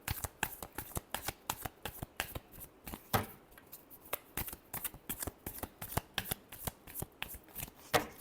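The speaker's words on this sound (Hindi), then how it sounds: "last shuffle" Tarot cards shuffled by hand in a steady run of crisp, riffling slaps and flutters, close and fairly loud, with a brief pause midway before the shuffling resumes.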